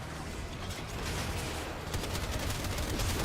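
Gunfire in Warframe rattles on continuously at close range, a dense, loud stream of rapid shots that grows a little more intense toward the end, with no talk over it.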